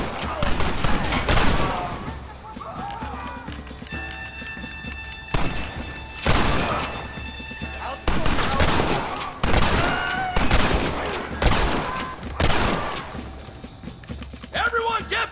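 Heavy gunfire in a Red Dead Redemption firefight, loud volleys and single shots coming in bursts separated by short pauses, with horse hoofbeats and shouting voices mixed in.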